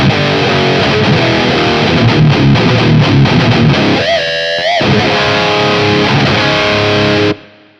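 Modern metal-style high-gain electric guitar through a BT Arkon 50 amp's FBR preset, loud distorted riffing with chugs, a bending sustained lead note midway, then more riffing ending in a sudden stop.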